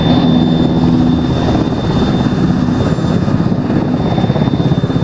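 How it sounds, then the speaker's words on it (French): A military helicopter sets down in ArmA 3, filling the scene with a loud, continuous rotor and turbine roar that holds steady throughout, with no voices over it. "Quel hélico se pose les gars, préparez-vous à monter dedans."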